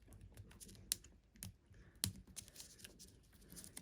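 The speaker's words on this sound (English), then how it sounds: "some cellophane to get into, and I usually struggle with this bit" Cellophane wrapping is torn off a retro Amiga game box, giving faint, irregular crinkling and crackling bursts with a few sharper snaps, close by and quiet, with no speech.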